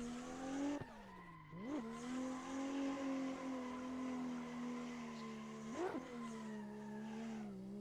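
A race car in the Assetto Corsa driving game holds a steady engine tone, with sharp pitch drops and rises at gear shifts and brief tire squeals through corners, all fairly faint.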